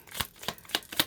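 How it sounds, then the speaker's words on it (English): Tarot cards are riffled close by in four crisp, evenly spaced bursts. Each is a sharp papery snap with soft rustling between them. "that was a good shuffle"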